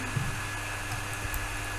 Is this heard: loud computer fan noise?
yes